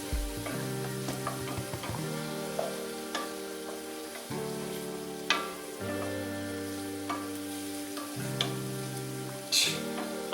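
Butter chicken ingredients sizzle steadily in a hot pan, with repeated stirring and scraping strokes. A few sharper clinks stand out above a loud, continuous frying hiss.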